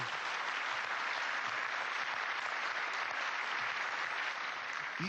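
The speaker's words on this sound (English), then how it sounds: "You are merely applauding yourselves, you understand that." A conference audience in Washington DC applauds steadily and loudly, a dense uninterrupted wash of clapping throughout.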